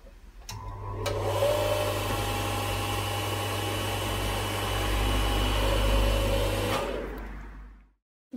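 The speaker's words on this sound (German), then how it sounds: "Müssen wir nur noch die Seitenteile bohren." A power drill bores through the wooden side panels of a MiniPlus beehive, running as one steady, fairly loud motor whine for about six seconds before cutting off, with no talking.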